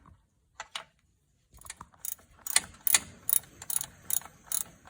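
Ratchet clicking as it loosens the 13mm battery cable nut on the starter of a 2WD Jeep Liberty, a few quiet isolated clicks, then a faster run of sharp close clicks.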